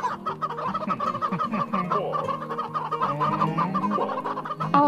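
A space chicken in a video game clucks repeatedly in loud, close, fluttering bursts, with a few squawks and no talking over it.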